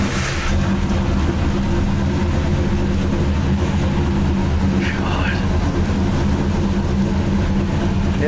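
A 1970 Dodge Charger idles in an enclosed space, its engine a steady, loud, low rumble that swells in just after the first half second and holds throughout, with faint voices underneath.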